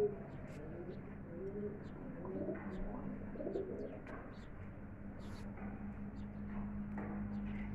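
High flying pigeons coo repeatedly in their cages, soft throaty calls drifting over a steady low background hum with occasional faint chirps.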